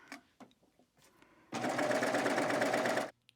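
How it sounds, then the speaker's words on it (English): A sewing machine stitches dress fabric in a loud, steady run of about one and a half seconds, after quiet handling sounds and brief rustling, then stops abruptly. "And then I'll go sew these together."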